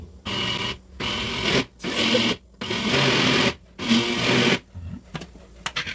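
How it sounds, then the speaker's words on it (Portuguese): Countertop blender whirring in several short pulses, mixing Russian pancake batter with milk; loud bursts of about a second each separated by brief pauses, with no talking. "fechar e continuar batendo. Aos poucos, é bom bater no impulso, para o liquidificador não cansar muito."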